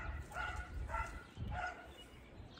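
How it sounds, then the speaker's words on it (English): A dog barks sharply outdoors on a cut-flower farm, three loud barks spaced about half a second apart, with quiet background between them. "That dog sounds mad."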